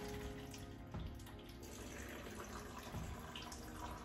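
Coolant pouring out during a water pump replacement on a small block Mopar engine, a steady watery splashing and trickling at close range that runs continuously, with no talk.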